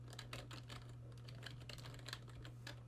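Rapid keystrokes on a computer keyboard, close and fairly quiet, clicking in irregular bursts over a steady low electrical hum, with no talking.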